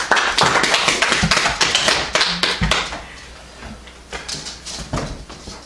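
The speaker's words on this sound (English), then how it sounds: "Let's give him a big hand clap." A church congregation bursts into loud, dense applause for a boy named Caleb, the clapping strong at first, then thinning and softening before a few renewed bursts near the end.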